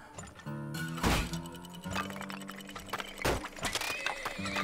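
Horses in the game Turmoil neigh and whinny loudly, with clip-clop hoof sounds and thunks mixed among the calls over several seconds.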